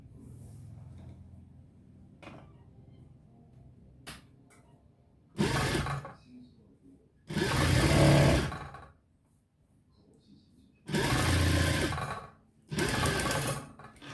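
A tailor's sewing machine stitches lace onto a garment neckline in four loud bursts, close by, separated by quiet stretches with a low hum.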